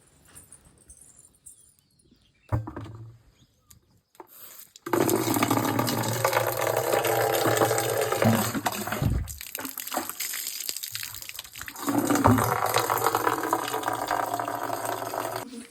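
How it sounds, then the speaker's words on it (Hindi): Water runs from a tap and fills a container, a steady rushing splash that starts after a few quiet seconds, stops briefly midway, then resumes loud and close, with faint birds in the background. "तो भर लेती हूँ पानी पहले।"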